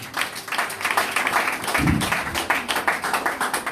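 A church congregation claps together in fast, steady rhythm, a dense, lively patter of many hands close by and fairly loud, with a brief low thump partway through.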